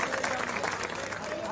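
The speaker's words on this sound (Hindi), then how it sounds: "मैं जोरदार तालियों की गड़गड़ाहट से स्वागत चाहता हूं" Crowd applause at a political rally, a steady roll of many people clapping at once, moderately loud and continuous, with some voices mixed into the din.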